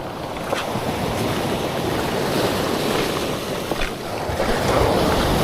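Steady roar of ocean waves breaking and washing in during a typhoon, with a constant wash of surf and some wind noise, no voices.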